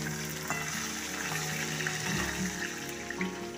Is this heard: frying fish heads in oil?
yes